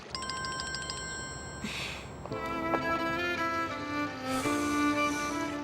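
A phone rings with a repeating electronic ringtone, bright tonal bursts that change pattern midway, loud and close over a steady background, with no voices.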